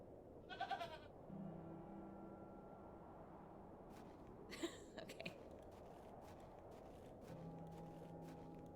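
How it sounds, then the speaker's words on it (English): Goat bleating in The Excavation of Hob's Barrow, a single wavering bleat near the start and another short call midway, over a quiet ambient game background. "I'm gonna say hey to this goat again."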